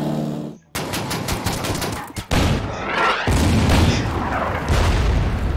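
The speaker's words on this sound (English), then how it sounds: "the artillery fired at him" Artillery fire in the WWII strategy game Order of Battle, a dense run of booming blasts and sharp gunfire-like reports that fills the clip loudly, with a brief gap near the start.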